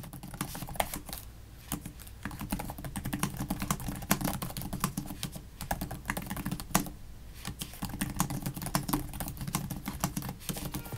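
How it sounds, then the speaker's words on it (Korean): Steady, fairly brisk typing on the backlit keyboard of an LG gram 15 (2025, 15ZD90T) laptop, a dense run of soft, springy key clicks heard close up with no talking. "타건음의 경우 실제 타이핑 소리를 들어보면"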